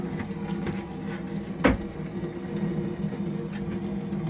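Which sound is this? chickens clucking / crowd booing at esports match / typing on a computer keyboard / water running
water running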